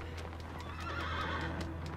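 A horse neighs in the video game Shadow of the Colossus, a clear whinny over steady hooves and a low background hum, fairly close.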